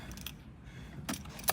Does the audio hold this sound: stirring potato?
no